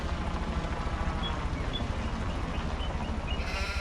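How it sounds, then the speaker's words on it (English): Sheep bleat faintly on a farm, the calls soft and scattered over a steady low background hum, with no talk. "So let's have a look at the sheep."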